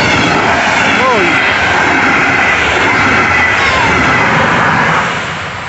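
A double-decker train passes a railway crossing in Żabieniec, a loud steady rumbling roar close by with a high whine and a falling horn-like tone early on, fading slightly at the end.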